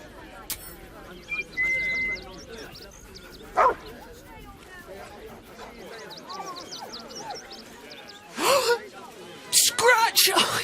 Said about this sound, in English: He's a good dog.